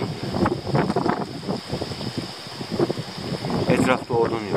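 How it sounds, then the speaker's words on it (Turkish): Strong wind buffets the microphone outdoors at a roadside campsite, a steady broadband rush with gusts, while a person talks throughout. "Rüzgar çok."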